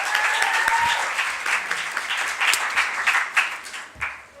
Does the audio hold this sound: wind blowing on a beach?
no